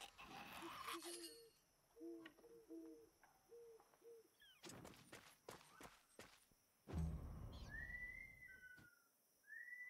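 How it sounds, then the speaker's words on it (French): A steady high whistling tone runs through a scene in the video game Wartales, joined by short repeated tonal blips, clicks and footstep-like knocks, with a louder burst of noise and rising chirps near the end. "Ça me rend fou, ce sifflement."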